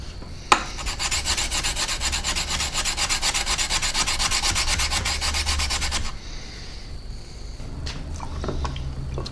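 A rusty, pitted knife blade is scrubbed with sandpaper in fast, rhythmic back-and-forth strokes for about six seconds, close and steady, followed by quieter handling and scraping.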